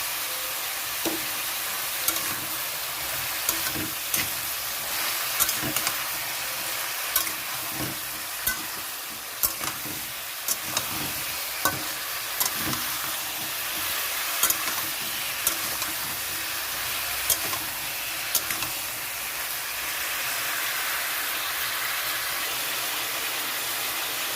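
Young jackfruit and prawns frying with salt and turmeric in a pan give a steady close sizzle, broken by regular clicks and scrapes of stirring. No talking.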